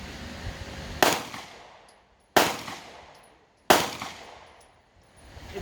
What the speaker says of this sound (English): since this is loaded with practice ammunition, I'm going to shoot this.